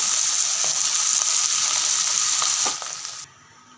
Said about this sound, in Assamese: এয়া মাছকেইটা ফ্ৰাই কৰা হৈ গ'ল